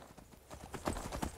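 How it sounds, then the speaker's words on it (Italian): Rapid clip-clop of horse hooves at a gallop in the video game Skyrim, a quick steady rhythm of close, fairly loud hoofbeats with no talking. "Che meraviglia, girare col cavallo."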